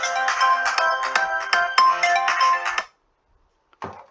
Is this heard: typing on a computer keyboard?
no